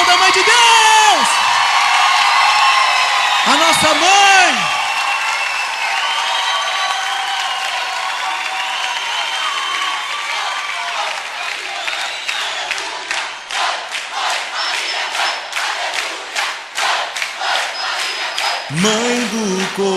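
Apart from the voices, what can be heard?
congregation applauding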